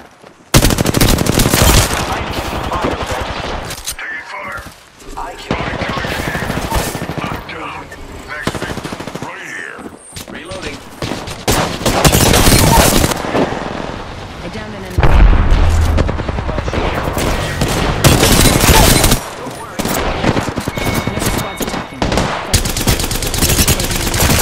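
Rapid automatic gunfire in the battle royale shooter Apex Legends, loud bursts and booming impacts packed tightly across the whole stretch, with a voice talking at times beneath the shooting.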